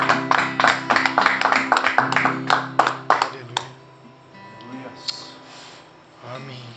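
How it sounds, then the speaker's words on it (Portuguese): A church congregation applauds for Jesus during an evening worship service, with a burst of quick, loud clapping for about three seconds that fades into scattered claps and quieter room noise. "Você pode dar um aplauso a Ele?"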